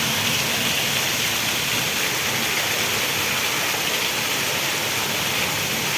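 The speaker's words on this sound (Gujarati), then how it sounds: "અત્યંત ભારે વરસાદ પડી રહ્યો છે" A torrential downpour lashes Vejalka village in Ranpur, Botad district: a loud, unbroken roar of heavy rain that stays constant from start to finish, close by, with no voices.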